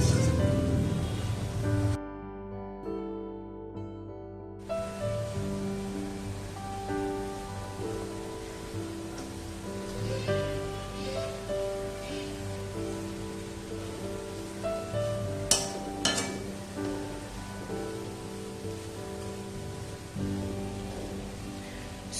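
Onions fry and caramelize in oil for chicken biryani, giving a steady rain-like crackling sizzle that runs throughout beneath continuous background music.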